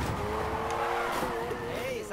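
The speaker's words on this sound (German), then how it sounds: "Ich will sehen, dass du den Drift hältst." A car drifting in Need for Speed Heat, engine roaring steadily with a rising, wavering tire squeal near the end, while a voice talks over it.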